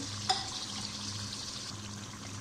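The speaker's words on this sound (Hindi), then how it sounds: "अब इसमें हम 1 कप ये वाला पानी का डालेंगे।" A cup of water is poured into potato and masoor lentil dal, a steady close pour with a brief clink at the start and no talking.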